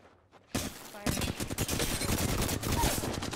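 Rapid automatic gunfire in the Apex Legends shooter game, starting abruptly after a quiet moment and continuing as a loud, dense burst of shots to the end.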